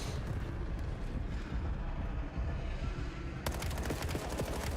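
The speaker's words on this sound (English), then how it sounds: "They're waiting for the nades to land" Grenades burst in a Call of Duty match as a dense, rumbling barrage of blasts and gunfire, loud and continuous, with sharper cracks breaking through toward the end.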